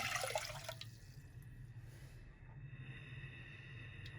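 A glass of water is poured into a cooking pot to start a syrup for jaggery laddus in a home kitchen: a short splashing gush in the first second, then a steady low hum with faint drips.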